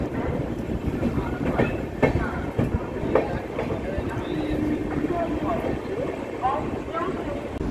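The Purvanchal Express passenger train, number 15049, runs on the rails between Kolkata and Rasra: a continuous rolling rumble with repeated clickety-clack beats from the wheels, heard from on board.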